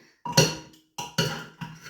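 A pressure cooker is emptied in a home kitchen, giving a few separate metallic clinks and knocks of the pot being handled and scraped, close and fairly quiet, with short gaps between them.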